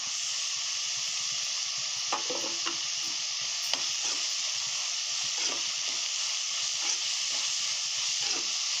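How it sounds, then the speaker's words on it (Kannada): Onions fry in a pan for a knol-khol palya, giving a steady close sizzle with occasional stirring clicks and scrapes throughout, with no talk. "ನೋಡಿ, ಈರುಳ್ಳಿ ಈಗ ಸ್ವಲ್ಪ ಫ್ರೈ ಆಗಿದೆ"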